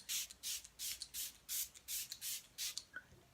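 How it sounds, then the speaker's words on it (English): Metatron Plum Spray, a purple aura spray, misted from a pump bottle in about ten quick rhythmic hissing bursts, close and alone with no talk. "So I'm also going to now spray us all with the Metatron Plum Spray"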